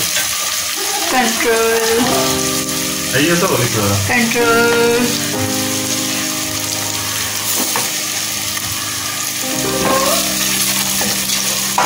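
Onion and garlic browning in hot oil for Bihari-style qeema hiss and sizzle steadily, with occasional stirring, while a person talks over the frying.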